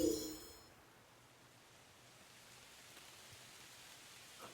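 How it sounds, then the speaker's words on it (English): Rain falls in the resort plaza of the Hello Kitty Island Adventure game as a soft, steady hiss, faint and continuous, with a brief chime at the start and no talk. "The resort plaza, it's raining in the resort"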